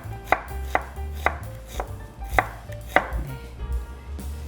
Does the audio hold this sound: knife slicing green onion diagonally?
yes